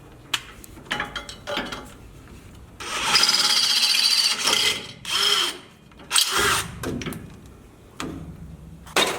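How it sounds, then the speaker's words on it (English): A power drill whirs in several bursts of varying length, drilling out holes during a suspension install on a Jeep Gladiator Rubicon diesel, with gritty grinding and short gaps between runs, close by. "I'm going to drill these out and install these"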